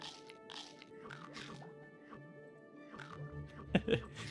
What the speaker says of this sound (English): that crunch sound is good